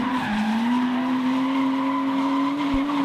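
A drift car spins out on a dirt-edged track during a top 16 drift competition, its engine holding a steady loud drone under sustained tire squeal for about three seconds, with no talk.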